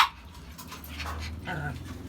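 A dog heard close by with soft panting and whimpering sounds, while a person talks over it.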